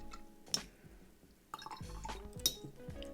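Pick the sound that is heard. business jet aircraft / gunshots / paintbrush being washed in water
paintbrush being washed in water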